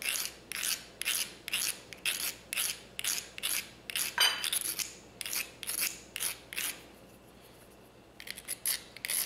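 A steel fire rod is scraped repeatedly onto a petroleum jelly cotton ball fire starter, giving rhythmic rasping strokes about twice per second, close and distinct, pausing briefly before resuming.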